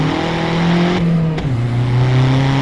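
A turbo diesel VW Polo PD130 accelerates hard on fresh tarmac. Its engine drone climbs loud and close, dips at a quick gear change, then pulls upward again, with no voices.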